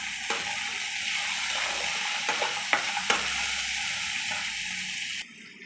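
Onion and spices sizzle steadily in a hot pan, a continuous bright fry with a few sharp spatula clicks and stirs, close and fairly loud, easing off at the very end.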